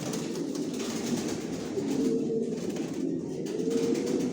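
Big racing pigeons in a loft coo in low rolling phrases, a couple of swells standing out over a steady bed of quieter cooing, with no voices.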